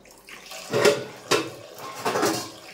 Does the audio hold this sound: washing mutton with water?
yes